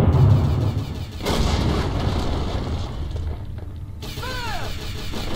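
Booming cannon fire in the Treasure Planet: Battle at Procyon game rumbles heavily, with a big blast around the second mark, followed by crackling debris and a rising electronic whine near the end.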